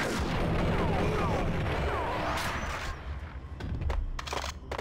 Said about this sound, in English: where does that grenade come from?